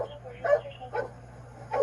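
A police dog barks three times at a traffic stop after a Challenger did donuts, sharp close barks spaced apart over a steady low engine hum.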